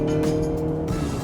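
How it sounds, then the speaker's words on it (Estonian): A Mercedes-Benz GLC 300 e 4MATIC Coupé in sport mode gives a loud, close, sustained engine growl with a brief rising rev surge, heard from inside the car. "Mootor ärkas ellu, natuke urises seal kapoti all."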